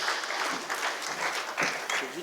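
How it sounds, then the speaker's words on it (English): Audience applause for panelists on stage at a shipping industry panel discussion: a brief, fairly close burst of many hands clapping, uneven in density, with a voice speaking over it. "Can we have a round of applause for all our panelists here on stage?"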